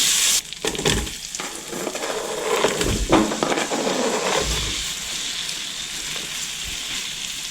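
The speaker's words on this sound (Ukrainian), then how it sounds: "Поки цибулька шкварчить" Onion frying in butter in a pot, a loud steady sizzle with crackling, broken by a few stirring scrapes near the start, with no talking.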